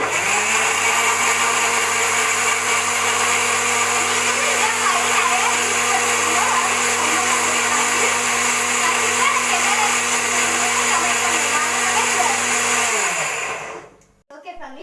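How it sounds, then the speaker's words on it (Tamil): A mixer grinder purees musk melon for juice with a loud, steady, high-pitched whirring drone that runs unbroken for about thirteen seconds before winding down and stopping. "ஃபேமிலிஸ் நம்ம இப்போ அரைக்கலாம்"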